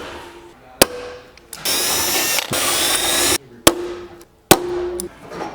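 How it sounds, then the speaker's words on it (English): A power drill bores holes through a Fox Body hatch to mount a rear wing, with two long high-pitched whirring bursts between sharp clicks and short starts and stops, loud and close with no talking. "We'll go ahead and drill some holes."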